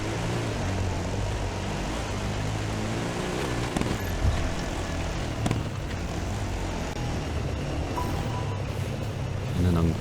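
A helicopter flying over the desert during the Dakar Rally quad stage: a steady, loud rotor and engine drone fills the whole stretch, with the rider's voice occasionally audible over it.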